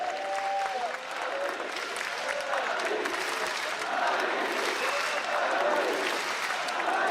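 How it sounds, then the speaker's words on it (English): An esports arena crowd at the 2015 League of Legends World Championship semifinals in Brussels applauds and cheers steadily for several seconds, a dense, loud wall of clapping and shouting. "the crowd really loves them"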